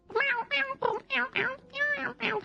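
A voice imitates a cat meowing, giving seven short, whiny mews in an even rhythm, up close and loud, with brief gaps between them.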